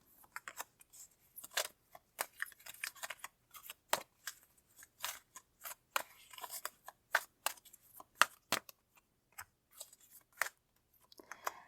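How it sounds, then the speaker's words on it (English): Tarot cards are shuffled and drawn from a deck close up, a quiet, rapid series of crisp flicks and snaps at an uneven rhythm, with no talking. "Now I'm going to pull some cards to go with that."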